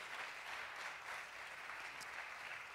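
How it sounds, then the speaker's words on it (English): A forum audience gives a panel a steady round of applause, a continuous even wash of clapping at moderate distance with no voices over it. "Would you give our panel a big round of applause before we begin?"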